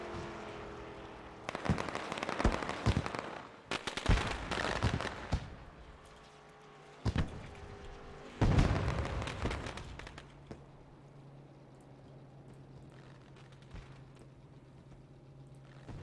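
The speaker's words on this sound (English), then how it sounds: "The fireworks go off." Celebratory fireworks go off after a stock car race at Charlotte in a racing video game. Several loud bursts come in clusters, then fade to a low steady engine-like hum. No one talks.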